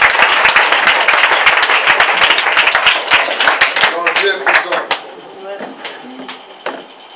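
A congregation at a prayer and adoration service claps loudly and steadily in dense applause that thins out toward the end, mixed with voices acclaiming Jesus.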